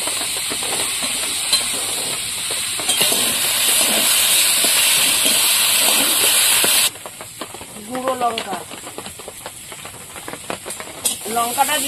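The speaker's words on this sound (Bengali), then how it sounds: "লবণ, হলুদ, সবজিটা ভালো করে কষিয়ে নেব।" Vegetables sautéed with salt and turmeric in a pan, giving a loud, steady, hissing sizzle that drops to a softer crackle partway through, with a person speaking over the later part.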